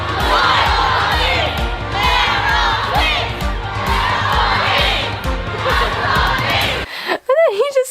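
A large crowd at a Playlist Live fan event screams a chant together in loud, dense rhythmic waves for about seven seconds, ending abruptly before a short, close voice speaks.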